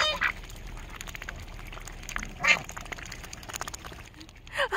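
Ducks and geese in a backyard pond full of water, quacking and honking in scattered bursts over a steady watery background, with louder calls near the middle and end.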